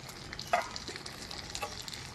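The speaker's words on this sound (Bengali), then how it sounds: "কি সুন্দর হচ্ছে আর টকবক করে ফুটছে" Katla fish paturi wrapped in banana leaf simmers in a pan, giving a quiet, irregular bubbling and sputtering with a few small pops.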